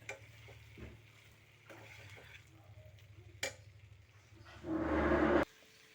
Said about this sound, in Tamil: பெப்பர் பொடி கொத்தமல்லி இலைகளை சேர்த்துட்டு நல்ல ஒரு கிளறி கிளறிடுங்க